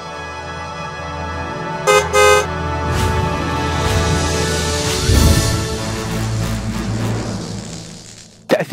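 A car horn blares in one long, loud, sustained tone over a low traffic rumble, with short extra toots near the start and a small shift in the held note partway through, as if the car is passing.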